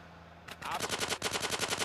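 A machine gun in GTA San Andreas opens up after a brief quiet lead-in, firing a loud, rapid, evenly spaced stream of shots that continues to the end.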